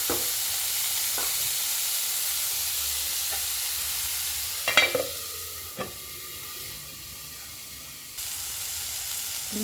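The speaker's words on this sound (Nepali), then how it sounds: "अब यसलाई चलाउँछु, मजाले फ्राई गर्छु एकछिन।" Jackfruit curry with spices sizzles and fries in a pan, a steady hiss broken by a few scraping stirs and clinks midway, close and alone without talk.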